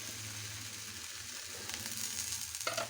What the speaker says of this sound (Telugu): స్టవ్ ఫ్లేమ్ని తగ్గించుకొని చుట్టూ కూడా ఒక 2 స్పూన్ల ఆయిల్ వేసుకోవాలి.